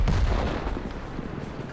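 A tank cannon in a video game fires a heavy, booming shot aimed at an enemy's front drive wheel, the blast strongest at the start and decaying into a rumbling, noisy tail with no talk.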